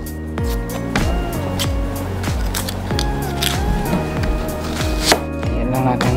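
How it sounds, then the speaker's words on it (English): A kitchen knife strikes a cutting board in a steady series of crisp, close taps while an onion is peeled and cut for squash soup. Tonal background music plays continuously underneath. "Next, let's peel our onion."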